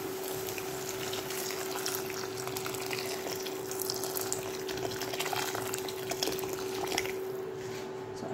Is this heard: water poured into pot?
yes